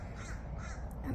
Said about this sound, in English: What's bothering me is a stupid crow bird thing.